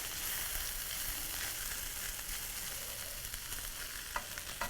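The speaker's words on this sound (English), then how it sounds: "our veggies are nicely sauteed" Vegetables and cold cooked rice sauteing for a stir fry give a steady, moderately loud sizzle with a dense hiss throughout, and a couple of brief clinks near the end as the pan is stirred.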